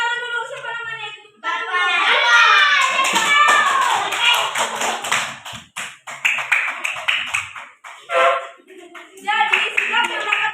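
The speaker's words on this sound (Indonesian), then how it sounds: "Ya, tepuk tangan dulu." Schoolchildren clap their hands in an elementary school classroom in Hutarimbaru, a burst of quick, uneven claps mixed with children's and a teacher's voices, followed by scattered taps and talk.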